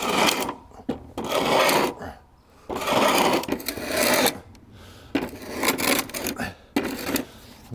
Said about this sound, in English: Now we're just gonna actually sand it down.